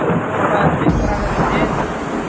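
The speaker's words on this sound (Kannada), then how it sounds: "ರಾತ್ರಿ ಹನ್ನೆರಡು ಗಂಟೆ ಆಗೈತಿ ಇನ್ನೂ ಮಳೆ ಬಿಡವಲ್ತು" Heavy night rain pours down in Mangalore with a low thunder rumble, a dense, loud, continuous roar close to the microphone.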